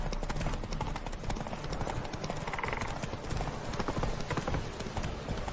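Horses gallop in a race in The Witcher 3, loud dense clip-clop hoofbeats pounding steadily and close throughout.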